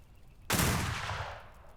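A single loud gunshot in a roleplay video game, a sharp close blast at about half a second followed by a long rolling echo that fades over the next second.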